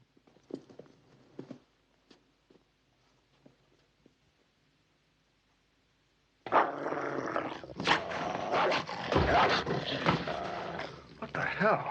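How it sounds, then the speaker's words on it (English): A dog yelps and cries out after being kicked in a dramatic film scene. A quiet stretch with a few soft sounds is followed by a sudden, loud, sustained burst of animal noise mixed with raised voices. "How dare you kick my dog, you reprobate?"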